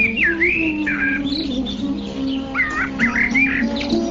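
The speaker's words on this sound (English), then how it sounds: "varieties of birds chirp with sweet voices" Birds chirp and whistle in sweet, varied calls, close and clear, with repeated warbling phrases over a steady low tonal drone.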